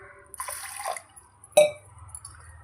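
Water runs into a bowl of soaked fenugreek seeds for a pickle, a short pour followed by a sharper splash, close and fairly quiet with no talk.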